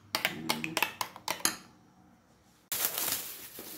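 Utensils clink against a bowl while macaroni salad is mixed, a quick series of sharp clatters followed by a pause, then a louder burst of scraping and rattling.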